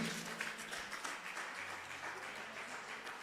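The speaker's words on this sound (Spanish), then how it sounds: "Démosle un aplauso al Señor porque ha resucitado" Church congregation applauding the Lord during a Spanish-language Easter resurrection sermon, a dense, steady wash of many hands clapping at moderate distance, with low sustained tones underneath.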